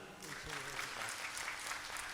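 A seated audience at a Hindi spiritual discourse claps continuously throughout, a dense, even wash of applause with a faint voice briefly underneath.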